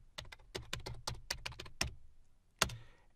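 A PowerShell command is typed on a computer keyboard: about ten quick, close keystrokes in an uneven run, a short pause, then one firmer final key press, all quiet and with no talking.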